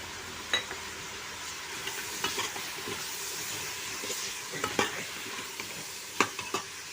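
Ground spices, coriander powder, turmeric, Malvani masala and garam masala, with asafoetida sautéing in a pan for masala brinjal rice, a steady close sizzle punctuated by scattered ladle scrapes and clinks.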